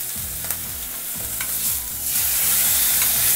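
Steak being tossed with oyster sauce in a hot frying pan, a steady bright sizzle with repeated low scraping sweeps as the pan is shifted back and forth, growing slightly louder toward the end.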